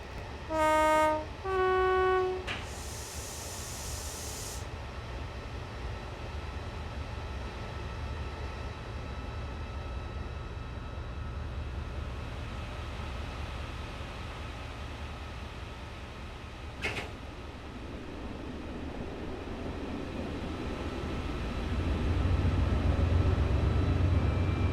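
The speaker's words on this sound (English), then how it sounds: "This is the Class 68 in Direct Rail Services colours." Class 68 diesel freight locomotive in Direct Rail Services livery, simulated in Train Sim World 4: a short horn blast sounds near the start over a steady engine and rail rumble that continues throughout, with a brief clank midway and a swelling engine note near the end.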